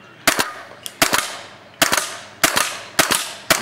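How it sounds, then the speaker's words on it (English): A Tippmann X7 Phenom paintball marker firing in semi-auto, six sharp close pops spaced roughly evenly about half a second to a second apart, each with a short mechanical echo, no talk. "So we're just going to test it out in semi and see what it does."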